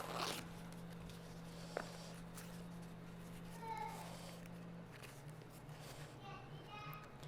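Corn husks being torn by hand for a wreath, dry rasping rips heard up close, with a brief crackle early on and fainter tearing later over a steady low hum and light background voices.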